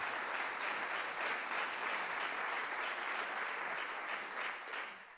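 An audience at a 2015 MCG address breaks into sustained applause, a dense steady wash of many hands clapping that holds for several seconds before tapering off at the end.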